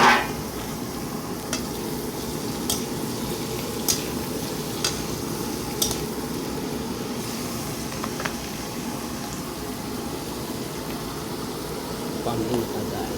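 Mussels stir and sizzle steadily in a frying pan, a continuous crackling hiss with occasional sharp clinks of the utensil against the pan, and a low hum underneath.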